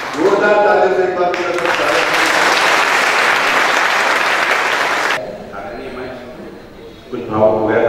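A crowd at a public gathering gives loud, dense applause lasting about four seconds, framed by someone speaking before it begins and after it cuts off.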